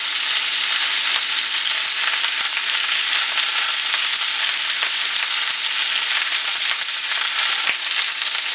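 Pork chops browning in a very hot pan give off a loud, dense, continuous sizzle with faint crackles, heard close and alone.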